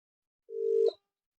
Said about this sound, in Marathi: इंद्रदेवाला फोन लावतो